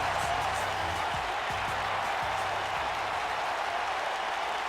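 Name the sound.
crowd cheering in WWE 2K19 video game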